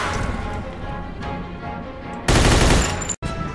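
Gunfire in the video game Mafia set in Empire Bay: a dense, loud burst of shots over game noise, ending in a sharp cut and a brief gap.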